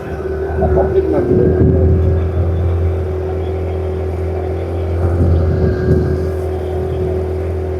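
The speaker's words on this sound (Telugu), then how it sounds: "పడవ ప్రయాణం" A motorboat carries riders across a village pond, its engine holding a steady low drone close by with a faint mechanical whine, while murmured voices surface briefly over the hum.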